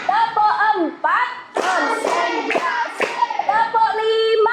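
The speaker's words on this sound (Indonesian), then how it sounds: "Tepuk tangan untuk kita semua." Children clapping their hands together during a classroom ice-breaker game, with rhythmic claps mixed under a teacher's voice and children's voices calling out.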